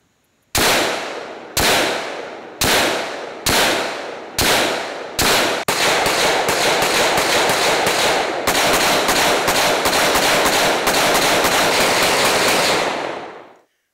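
Gun firing shots outdoors, six sharp single reports spaced about a second apart, followed by a rapid, dense burst of fire lasting several seconds before stopping, loud and close.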